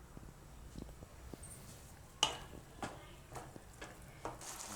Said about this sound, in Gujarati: આમાં વચ્ચે વચ્ચે હલાવતા રહેવું આપણે